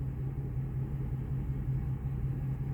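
A 2001 Ford F250 engine runs steadily with a low, slightly lugging rumble, close and continuous with no talking.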